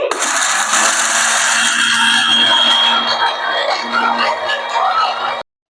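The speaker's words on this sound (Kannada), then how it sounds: "ಇದನ್ನ ಈಗ ಗ್ರೈಂಡ್ ಮಾಡ್ಕೋತೇನೆ 1 ನಿಮಿಷ." A mixer grinder whirs loud and close as it grinds coffee for cold coffee, a dense continuous motor roar with rattling that runs steadily for about five seconds before cutting off abruptly.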